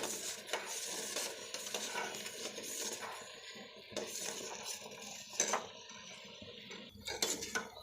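A homemade hair mask gel bubbles in a pot on the stove while a spoon stirs it, giving quiet scraping strokes, light clinks against metal and a soft simmering hiss throughout.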